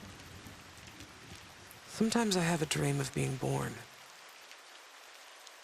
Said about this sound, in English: The rain splashing